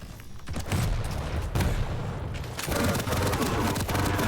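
Rocket and grenade explosions in the video game Quake Champions, a dense run of loud booms and weapon fire mixed with game noise, with renewed blasts in the latter half.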